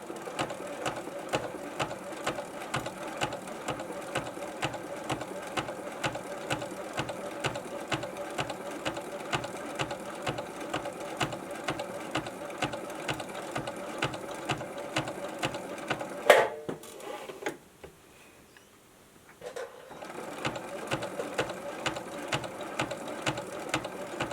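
A sewing machine stitches in the ditch along a seam with a steady, rapid mechanical clatter, pausing briefly near the end before starting up again, close and loud with no talking.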